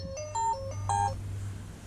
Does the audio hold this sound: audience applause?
no